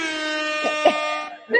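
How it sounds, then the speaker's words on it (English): A loud, sustained air horn blares close up, a brash buzzing tone lasting over a second, broken by short bursts of voices over it. "my favorite air horn sound"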